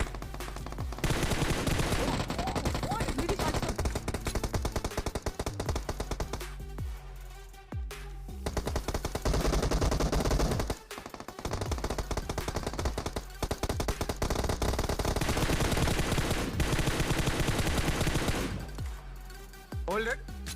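Dense, sustained automatic gunfire from a squad fight in BGMI/PUBG on a Samsung phone, with loud rapid bursts and overlapping shots that barely pause for about twenty seconds.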